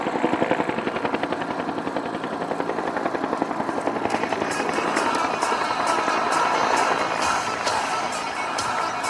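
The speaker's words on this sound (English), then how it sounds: "Helicopter's ability to fly in any direction, forward, backwards, or sideways." A helicopter flown by the Sky Soldiers performs at the Warbirds Over Monroe airshow, its rotor thumping loud and steady with a continuous engine roar that swells slightly as it maneuvers nearby.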